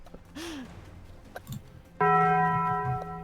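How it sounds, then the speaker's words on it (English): A single funeral bell toll played from a game soundboard in Magicka, ringing out with a bright, sustained metallic tone partway through after scattered quiet clicks and faint noises. "The funeral bell tolls for you."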